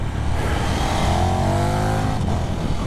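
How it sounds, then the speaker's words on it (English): A KTM 1390 Super Duke with a 1350 cc engine revs hard and loud close by, its engine tone climbing steadily and then dropping briefly as the quick shifter clicks through an upshift. "Quick shifter up, short shifter."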